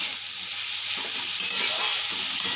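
Chopped banana stem seasoned with salt and turmeric sizzles steadily in a pan over a gas flame, a continuous close frying hiss with occasional stirring scrapes and no talk.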